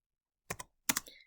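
Typing on a computer keyboard, two short bursts of close, crisp keystrokes separated by a brief pause, faint and alone in silence.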